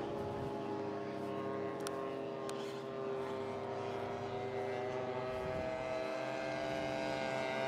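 RC model B-17 warbird propeller plane at an air show, a steady droning engine hum with layered tones holding constant throughout, moderately loud and without breaks.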